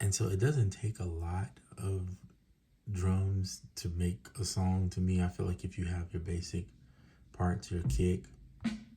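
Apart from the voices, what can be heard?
No everyday noises stand out.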